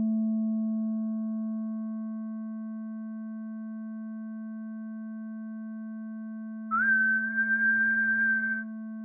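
A VCV Rack synthesizer sustains a steady sine tone with fixed harmonic partials, and about two-thirds of the way through another harmonic abruptly swells in loud above it and holds before cutting off.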